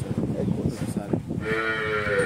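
Cows on a dairy farm moo loudly and close by, one long drawn-out low call rising out of rustling background noise and a brief murmur of a voice.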